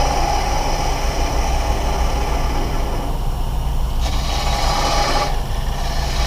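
A wood-turning gouge cuts spinning wood on a lathe with its bevel rubbing, making a steady, loud, continuous rasping hiss over a low motor hum, with two brief shifts in tone as the cut changes and no speech.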